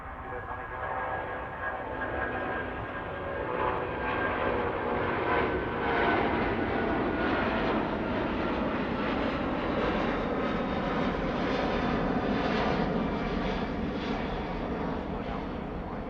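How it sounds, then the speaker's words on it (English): American Airlines Boeing 777 jet at Heathrow Airport: a loud, continuous broadband engine roar that swells slightly and holds steady for sixteen seconds, filling the foreground without any break. "Lovely, noisy American 777."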